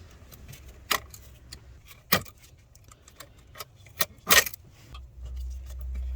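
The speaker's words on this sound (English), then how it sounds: "So we're going to cut the tie wraps." Plastic cable ties are snipped to free a Vodafone Cobra 2231 insurance black box from a car, giving a few sharp, close clicks and snaps with light rattling in between and no talking.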